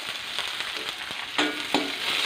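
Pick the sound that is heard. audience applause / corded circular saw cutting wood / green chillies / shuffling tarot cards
green chillies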